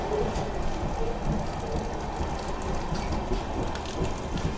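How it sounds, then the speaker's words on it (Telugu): Heavy rain pours steadily at Salem Junction railway station, a dense, even hiss of drops drumming on surfaces that fills the whole stretch without pause, with no voices. "ఇక్కడ కూడా అయితే మనకు వర్షం అయితే చాలా ఫుల్గా అయితే పడుతుంది"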